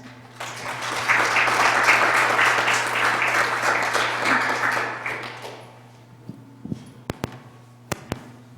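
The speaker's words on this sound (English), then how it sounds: "before we clap again" An audience applauds national champion girls at a county fiscal court meeting, a dense burst of clapping that swells for about four seconds, then thins out into a few scattered final claps.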